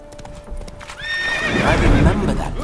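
Roach, the horse in The Witcher 3, lets out a loud, close whinny over clip-clopping hooves, a faint voice briefly present at the start.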